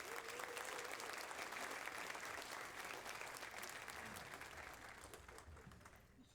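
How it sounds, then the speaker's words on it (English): A crowd at a Hall of Fame awards ceremony applauds continuously, a broad wash of clapping that holds steady and slowly fades toward the end, with faint voices mixed in. "let's give one more big round of applause for all of our local championship teams"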